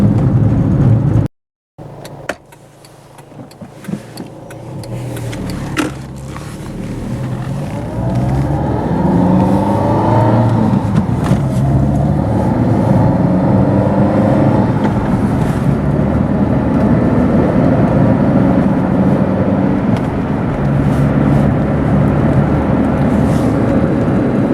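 A Fiat Cinquecento with a swapped engine pulls away and accelerates up to speed, its engine note rising steadily through a long loud continuous drone heard from inside the car, without talk.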